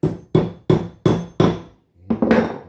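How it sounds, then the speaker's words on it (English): A hammer drives a wedge into a kerf cut: five sharp, evenly spaced ringing strikes, a brief pause, then a quicker cluster of blows, close and loud. "Just like this, we're going to drive this wedge in."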